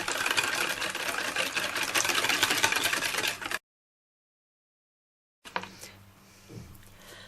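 Rapid, steady whirring of an electric mixer beating pancake batter for a few seconds, then a pause and lighter clattering and scraping in a bowl.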